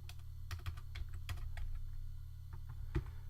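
Rapid, uneven keystrokes on a computer keyboard while code is typed, clustered clicks and taps over a steady low hum, fairly close with no talking.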